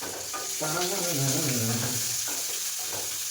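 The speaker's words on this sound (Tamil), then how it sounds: "பீட்ரூட் இனிப்பு இருக்கிறதுனால நம்ம சின்ன வெங்காயம் போடணும்" Small onions frying in a pan for a beetroot stir-fry, a close steady sizzle with a brief scraping stir and a voice-like tonal sound partway through.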